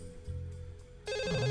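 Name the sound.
telephone ringing in a video game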